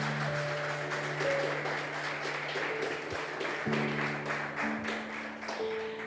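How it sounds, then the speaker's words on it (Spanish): A church congregation applauds steadily at a service, a continuous patter of many hands clapping, with sustained organ or keyboard tones underneath that shift pitch a few times. "Denle fuerte el aplauso al Señor."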